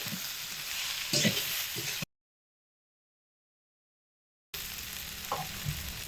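Mixed vegetables for shukto stir-fried in a pan, a soft steady sizzle with light stirring scrapes, cut off by a stretch of silence before the frying resumes.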